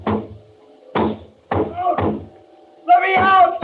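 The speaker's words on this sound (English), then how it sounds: "I went to the door, banged on it." A trapped person bangs on a door, several heavy, uneven thumps spread out over a few seconds, with a voice calling out over some of them.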